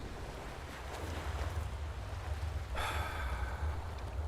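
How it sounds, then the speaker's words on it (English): Steady ocean surf and wind washing through a coastal scene in the video game Enderal, a continuous wave roar with a brighter surge of breaking water near the end, no talking. "Waves."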